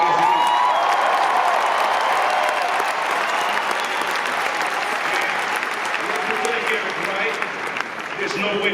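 A large Rock and Roll Hall of Fame induction crowd applauds and cheers for Eazy-E, a dense, steady wash of clapping and shouts.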